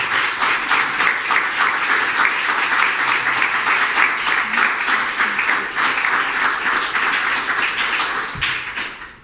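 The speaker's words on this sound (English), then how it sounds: "Please join me in thanking the candidates for participating in this forum with a round of applause." A room full of people claps for judicial candidates at a forum, dense and loud applause holding steady for several seconds before tapering off near the end.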